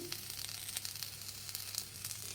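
Fennel seeds and turmeric sizzle steadily in hot oil in a pan, a soft continuous crackle with small pops throughout, quiet and close, no voices.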